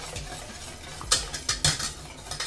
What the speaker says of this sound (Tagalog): i-mix natin ulit